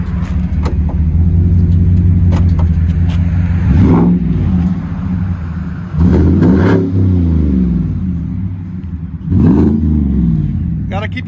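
A 2018 GMC Sierra Denali pickup with a supercharged 6.2L V8 and Magnaflow dual exhaust idles with a deep, loud rumble, then revs sharply three times in spaced bursts, each climbing and falling back to idle.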